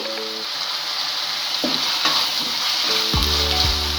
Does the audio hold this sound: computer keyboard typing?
no